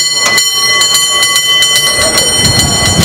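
A San Francisco tram clatters past close by with a steady loud rumble, rhythmic wheel clicks and a sustained metallic ringing tone, and no clear talking.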